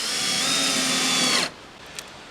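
A power driver running a screw into a wooden stringer on an 18-foot sailboat build, one steady whirring burst about a second and a half long, close and loud, then quiet.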